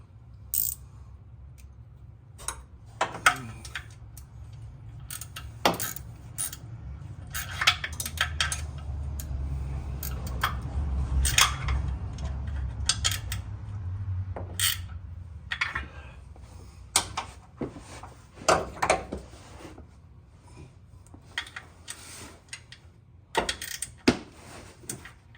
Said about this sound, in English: Now I'll get one more bolt in on this side.